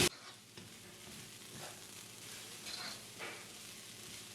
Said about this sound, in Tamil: இப்போ மீடியம் ஹீட்டில் வந்து நான் இதை கிளறி ஒரு 5லேருந்து 6 நிமிஷம் இதை நான் வறுத்தெடுக்க போகிறேன்.